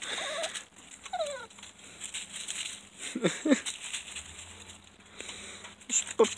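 Small puppies make faint, short whimpers and squeaks scattered over soft background rustling and patter, quiet and close.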